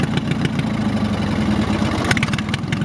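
A 4x4 lawn tractor engine runs at a steady idle, a loud, low, even chug close by with a few sharper knocks and rattles toward the end.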